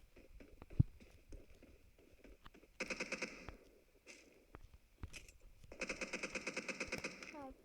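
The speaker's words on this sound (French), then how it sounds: "Ah, ça tire par là. Je sais pas où, mais ça tire." Video game gunfire, bursts of rapid automatic shots in two longer rattling volleys plus scattered single cracks, fairly faint and somewhat distant.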